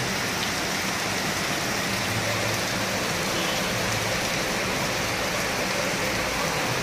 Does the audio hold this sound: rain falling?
yes